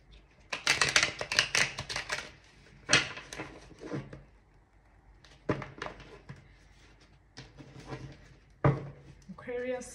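Tarot cards being shuffled in several riffling bursts separated by pauses, close and crisp, with no voices.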